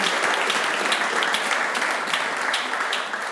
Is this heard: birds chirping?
no